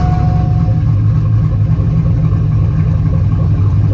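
A cammed, lowered single-cab pickup truck idles with a steady, loud, deep rumble and a slightly lopey pulse, heard close up and alone without any talk.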